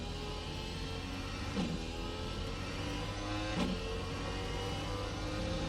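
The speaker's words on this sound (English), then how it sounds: "Drop the car into first gear, raise the revs, and get it rolling." Dallara iR-01 race car engine in iRacing idles with a steady, buzzing harmonic drone, rising slightly in pitch as the revs come up, loud and constant with no talking.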